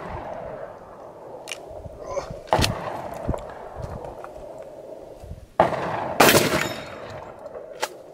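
A shotgun firing exotic zombie killer shells outdoors, with a few sharp, echoing blasts spaced several seconds apart against a steady background, and someone talking quietly between the shots.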